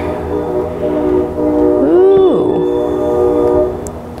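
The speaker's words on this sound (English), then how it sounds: "Train!" A train passes nearby with a steady rumble, and a bending horn blast sounds in the middle before the noise fades slightly.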